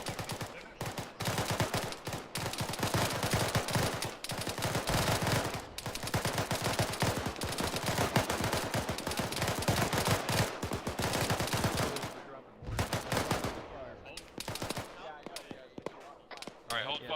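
Heavy gunfire in a military simulation game, dense rapid volleys and machine gun bursts crackling nonstop for most of the stretch before thinning out near the end.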